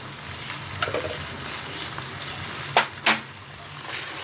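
Spices for a kasuri methi chicken fry in a pan with a steady soft sizzle, broken near the end by a couple of sharp scraping stirs.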